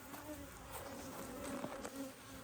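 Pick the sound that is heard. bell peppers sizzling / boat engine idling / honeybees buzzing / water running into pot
honeybees buzzing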